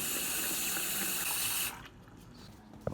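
Water pours steadily from a tap into the clean-water bladder tank of a carpet cleaner vacuum, a loud broadband rush that stops abruptly partway through, followed by quiet handling noise and a faint click.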